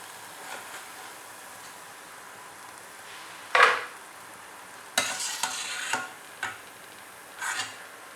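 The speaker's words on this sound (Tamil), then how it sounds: "இப்போ இது நல்லா பொன்னிறம் ஆகணும், நல்லா மொறுமொறுன்னு ஆகிற வரைக்கும் வறுக்கணும்" A gram flour snack fries in hot oil until golden and crisp: a quiet, steady sizzle is broken by a few sharp clinks and scrapes of stirring, and no one speaks.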